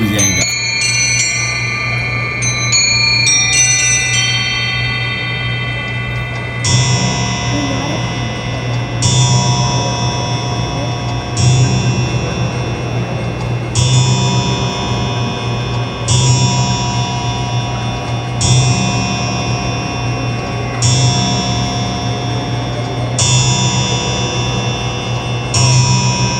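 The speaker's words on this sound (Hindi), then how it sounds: "वो 12 बजे 12 घंटियां बजा के चले जाएगा" A musical clock at the Salar Jung Museum chimes a slow series of evenly spaced bell strikes over a steady low hum, preceded by a quick run of tinkling notes.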